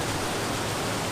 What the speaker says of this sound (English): But the waterfall, this is my favourite of the 3 waterfalls.